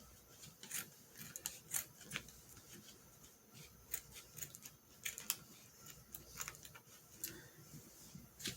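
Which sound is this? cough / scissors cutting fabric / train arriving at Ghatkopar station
scissors cutting fabric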